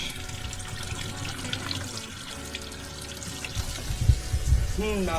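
Tap water runs over tomatoes being washed in a sink, a continuous splashing flow with rustling handling, growing busier near the end where a voice briefly sounds.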